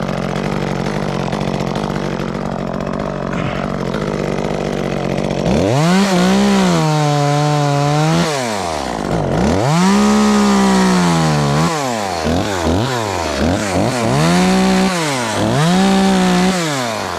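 An Echo CS-355T chainsaw buzzes loudly at close range, its engine note swinging up and down through several revving cuts into wood, with brief dips between bursts.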